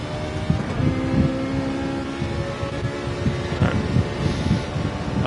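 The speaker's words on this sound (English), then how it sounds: "Do like the sound of that Ferrari." A Ferrari engine roars in a video game race on the Deep Forest track, a steady, close droning whine with sustained revving that holds loud and continuous for several seconds.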